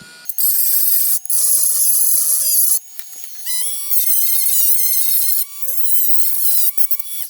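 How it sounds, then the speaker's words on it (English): A small Dremel rotary tool whines at high speed against a weld seam, cutting in and out in several bursts with shifting pitch as the grinding bit bears down on the metal, close and fairly loud. "got a little Dremel. Just gonna clean it up."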